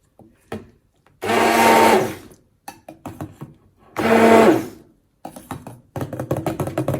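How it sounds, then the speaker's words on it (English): A blender mixing liquid soap whirs in two loud bursts of a couple of seconds each, separated by quieter clattering and tapping of tools and containers. "So I could just use the blender one more time."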